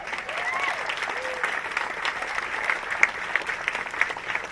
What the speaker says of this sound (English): I just want to ask for a round of applause for our security.